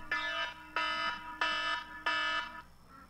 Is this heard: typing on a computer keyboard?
no